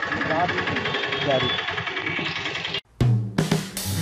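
A tractor engine runs steadily near Badaudi in Shivpuri district, a continuous close rumble that cuts off abruptly before louder clatter and mechanical bursts return.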